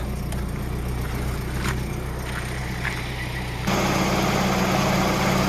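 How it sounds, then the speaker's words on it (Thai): A car engine idles steadily under the open hood with the air conditioning on, a low, even rumble growing slightly louder and brighter partway through, with no talking. "นี่ครับเครื่องยนต์นะ"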